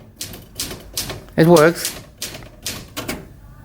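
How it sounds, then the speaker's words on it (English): An early mechanical typewriter clacks out a string of crisp, regularly spaced keystrikes close by, while people talk over and between the taps. "this is a really nice early typewriter"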